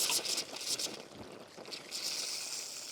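A portable camp shower's pump runs with a steady hissing, splashing water spray, close and continuous with no one speaking.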